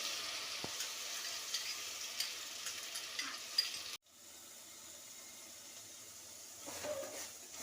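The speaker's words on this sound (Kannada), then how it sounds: "ಎಲ್ಲ ತರಕಾರಿಗಳು ಸ್ವಲ್ಪ ಫ್ರೈ ಆದಮೇಲೆ ಟೊಮೆಟೊ ಪ್ಯೂರಿನ ಹಾಕಿಕೊಳ್ಳೋಣ" Tomato puree frying with vegetables in a pan for mushroom biryani gives a steady close sizzle, with a sharp burst and brief drop as the puree goes in, then continuous frying.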